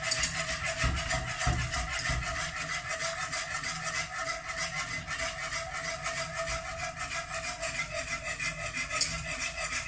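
A whisk scraping steadily through mac and cheese sauce in a pan over low heat, a continuous close rasping rub with a quick regular rhythm and no talking.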